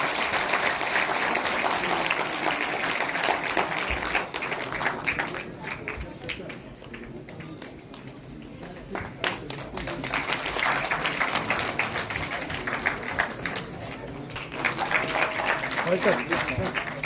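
Audience applause at a Ladakh Theatre Group event in Kargil, Ladakh, broad crowd clapping rising and fading over several seconds, with speech mixed in the middle stretch before the clapping swells again.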